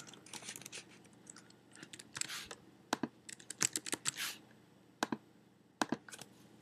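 Fingers tap at a computer keyboard to log in, quiet clusters of close, crisp keystrokes in irregular bursts with brief pauses between them.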